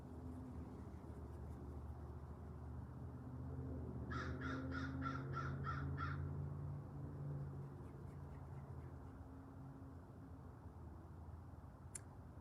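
A group of crows caw in a quick burst of about seven loud, evenly spaced calls, then fall silent while a steady low rumble of background noise continues throughout.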